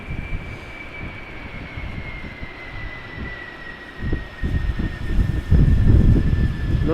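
A Kalitta cargo jet lands and slows at Amsterdam Schiphol Airport without thrust reversers, a distant roar with a steady tone, growing louder and rumbling toward the end.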